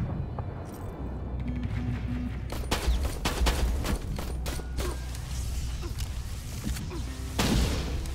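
Gunfire in Terminator: Resistance, a run of sharp shots and bursts, some clustered rapidly together, over mechanical clanks and creaks, with a louder burst near the end.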